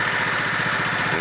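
A Kohler Command 18 hp engine on a Craftsman LTX1000 lawn tractor runs steadily at idle, a close, continuous low throbbing hum with an even rapid pulse and no talk over it.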